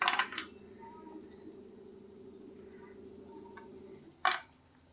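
Pabda fish slide into a thin, boiling potato, aubergine and bori curry, with a clatter and splash at the start, a steady low bubbling simmer throughout, and another brief clatter near the end.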